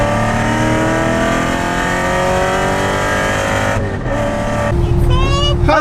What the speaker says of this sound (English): So now I get to drive Dan's awesome Corvette